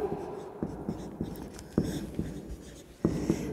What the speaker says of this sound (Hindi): देखिए लिखती हूँ मैं